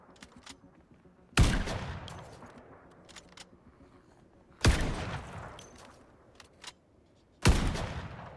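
Gunfire in the zombie survival game Project Zomboid: three loud, sharp bursts of shots spaced a few seconds apart, each with a decaying tail, separated by quieter background with faint clicks.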